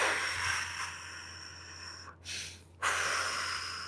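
A long, steady exhale of breath while folding forward into a hip stretch, a soft airy rush that pauses briefly and then resumes, heard close and alone.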